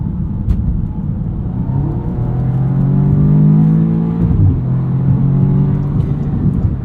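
A 2016 Audi S3 Sedan engine pulls hard under acceleration, a steady rising drone with a faint turbo whistle on top; the note dips briefly mid-run before building again, loud and close.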